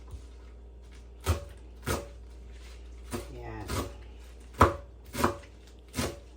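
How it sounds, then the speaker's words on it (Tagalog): Knife chopping pechay stalks into small pieces on a board, a handful of separate sharp thuds spaced about a second apart, close and fairly loud over a low steady hum. "hiwa-hiwain po natin ng maliliit"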